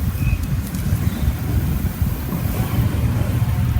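Water drizzled slowly onto a campfire to put it out at a Girl Scout camping site, giving a continuous rushing, hissing wash that stays steady and fairly loud throughout with no speech.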